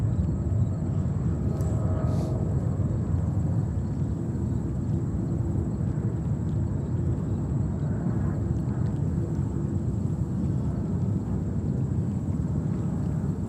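An Air India Boeing 777-300 at New York JFK airport gives a loud, steady, wide roar of jet engine noise with a faint high whine above it, continuous throughout.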